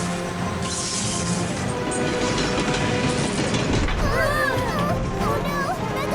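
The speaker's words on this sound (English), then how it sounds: "It's not so easy to control a runaway train," A runaway train in a kids' cartoon rumbles and clatters steadily along its tracks with a continuous roar, while animated characters talk and shout excitedly over it.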